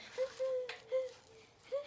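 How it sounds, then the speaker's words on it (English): Outdoors, a bird gives soft hooting calls that sound like an owl, three short tonal notes spaced under a second apart, faint and distant, with a quiet crinkle in between. "Sounds like an owl."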